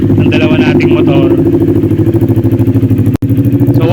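A QJ Motor ATR 160 motorcycle engine warming up after a cold start, idling with a loud, steady low rumble that briefly cuts out near the end, while someone talks over it.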